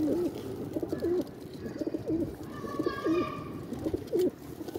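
Teddy bear pigeons kept by a home breeder coo in repeated soft, rolling calls at a steady rhythm, close by, with faint chirps in the background.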